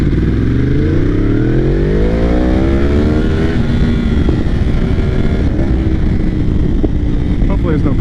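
Motorcycle engine revving loud and close, pitch sweeping upward through the gears with rev matching, a continuous roar with wind noise and a voice talking over it.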